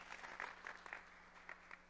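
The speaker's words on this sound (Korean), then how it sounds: "크게 우리 박수 한번 쳐주겠습니다." Congregation at a Sunday church service clapping, a brief, fairly soft burst of scattered applause lasting under two seconds with no talk over it.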